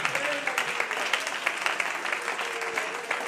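A church congregation claps during a Christian sermon, a brief steady patter of applause with crowd murmur underneath.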